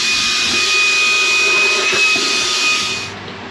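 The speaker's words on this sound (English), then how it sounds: "this little thing, little shark handheld, man, this thing's awesome" A small Shark handheld vacuum cleaner whines loudly up close, holding a steady high-pitched motor tone, then winds down at the end.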